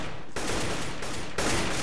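Gunfire in the video game CS:GO on the Cache map, a dense burst of shots repeating in quick succession, loud and close, with a brief gap between volleys.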